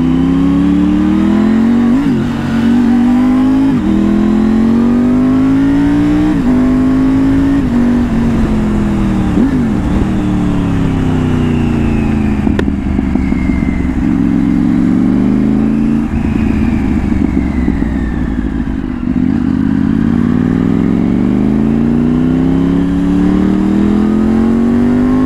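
Triumph Tiger 900 GT Pro motorcycle with a Yoshimura exhaust, its engine droning loud and steady throughout, rising and falling through repeated revs and gear changes while riding, with no talk.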